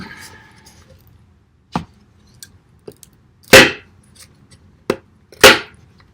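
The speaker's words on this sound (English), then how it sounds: "let's see if it does any better chopping." Sharp, isolated impacts of a CRKT Tueto linerlock folding knife chopping land one at a time at uneven intervals, two of them notably louder, with near silence between strikes.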